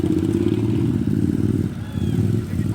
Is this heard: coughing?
no